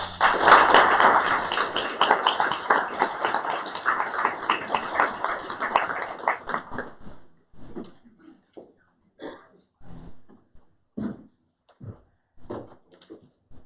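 Audience applause at an evening parent-engagement event on mental health and school resources: steady, dense clapping for several seconds that thins out into a few scattered claps and fades.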